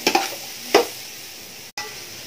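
Rice stir-fried in a hot pan on full flame for Kerala-style chicken fried rice with vegetables, giving a few sharp scraping stirs and sizzling bursts near the start, then a steady soft sizzle with a brief cut near the end.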